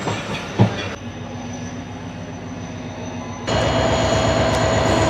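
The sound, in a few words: Tezgam Express train at Bahawalpur railway station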